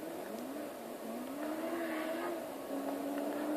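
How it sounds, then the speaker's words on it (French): A motorcycle engine in a stunt video game revs in a steady drone, its pitch climbing and dipping in a few surges with each throttle change, heard alone without speech. "c'est la meilleure moto pour le moment qui soit pour faire le stunt"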